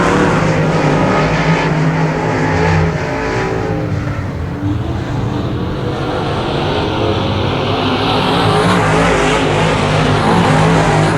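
Late model race cars in a RUSH heat at the dirt track at Genesee roar continuously and loudly, with several engines layered together and revving and droning steadily throughout.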